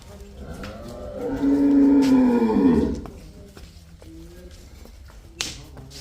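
A water buffalo lets out a long, deep, loud moo nearby on a farm, followed by quieter ambient noise and a single sharp click.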